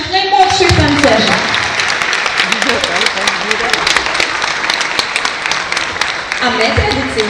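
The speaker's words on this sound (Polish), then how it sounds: "Wielkie brawa dla naszych najmłodszych tancerzy." Applause for the youngest dancers at a school dance recital, a steady patter of clapping with a voice talking at the start and end.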